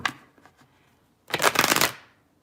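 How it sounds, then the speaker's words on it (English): A deck of love cards being shuffled by hand, starting with a few light taps and card flicks, then a loud, dense riffle that runs for about half a second and fades out. "Let me shuffle these."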